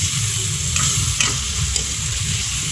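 A spoon stirs crab stew simmering in coconut milk in a pot, giving a steady bubbling sizzle with a few light scraping clinks against the metal, close and continuous with no talking.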